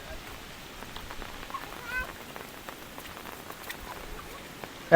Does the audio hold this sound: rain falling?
yes